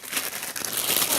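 Scissors snip into crinkly plastic packaging of Crybabies extra sour bubblegum candy, a brief close burst of crackling and crumpling.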